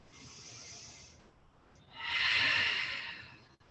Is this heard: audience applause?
no